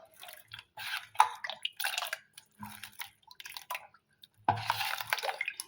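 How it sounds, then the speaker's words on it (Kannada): Water goes into a bowl of neem flower mixture for the Ugadi festival dish bevu, heard as short wet splashes and squishy mixing sounds in uneven bursts with quiet gaps between them. "ಇನ್ನೂ ಸ್ವಲ್ಪ ನೀರು ಹಾಕ್ತಾರೆ, ಗಟ್ಟಿಗಿದ್ರೆ."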